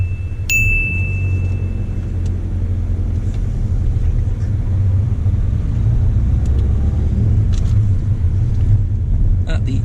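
A car driving away during a driving test, a steady low engine rumble and road noise close inside the cabin, with a brief chime at the start and a voice in the car.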